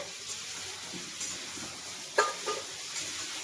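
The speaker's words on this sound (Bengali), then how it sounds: "তো বাদামটাকে একটু নেড়ে নেওয়া হচ্ছে কাঁচা ছিল" Raw peanuts stirred in a pan on a home stove give a faint, steady scraping hiss with a couple of sharper clinks near the end, and no voices.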